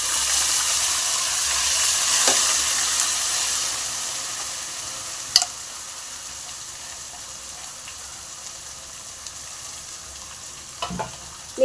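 Chopped onions fry in a pan for a seela fish curry, giving a steady bright sizzle with a few sharp clinks of stirring, loudest at the start and then settling into a softer, even hiss.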